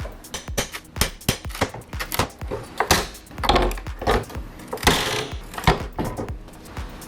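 Board being pried and loosened off a wooden pallet, a run of sharp knocks and creaking wood pulls repeating irregularly, close and fairly loud, with no voices.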